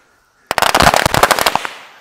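A firework goes off outdoors in the morning with a sudden loud burst, followed by a rapid crackling string of pops for about a second that fades into a decaying rumble.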